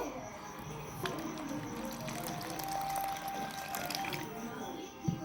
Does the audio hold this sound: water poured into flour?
yes